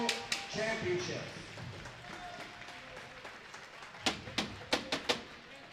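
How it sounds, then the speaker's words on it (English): Applause for award winners at a Women's B National Championships ball hockey ceremony: scattered hand claps in a large hall, a few sharp claps standing out near the end, with voices in the background. "Let's have a round of applause for our award winners of the Women's B National Championships."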